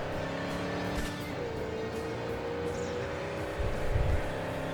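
A car cruising along an outskirts road in Cyberpunk 2077, a steady engine drone with a shifting pitch and slight swells, while a voice speaks briefly over it.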